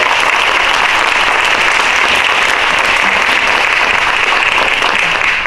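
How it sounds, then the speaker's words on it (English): A campus audience gives a loud, dense round of applause at an evening education talk, a sustained wash of many hands clapping evenly for several seconds with no speech over it. "If we could give her a round of applause."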